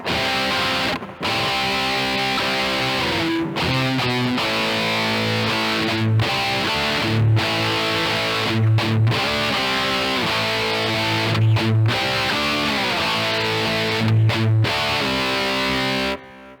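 An electric guitar plays through a hair-metal distortion patch, loud and saturated, chugging rhythmic chords cut by brief sharp stops and repeated palm-muted bursts. No voice is heard.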